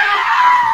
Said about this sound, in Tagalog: Sigaw pa lang yan, ha?